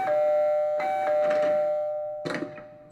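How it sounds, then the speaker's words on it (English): An electronic doorbell chimes with a sustained ringing tone, pressed again and again in short bursts, fairly close and clear in a quiet indoor space. "I kept ringing the doorbell until the door finally unlocked."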